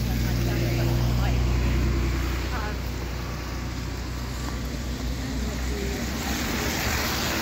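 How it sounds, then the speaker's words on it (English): Steady roar of busy street traffic in Leeds during a music event, a broad continuous rumble of passing vehicles that holds loud and close throughout, with voices faintly mixed in. "Right, traffic busy up and down."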